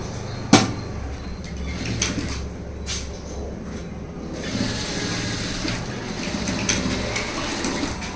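A sewing machine stitching a blouse runs steadily at close range, a continuous whirring hum with a few sharp clicks and knocks over it, and no talking.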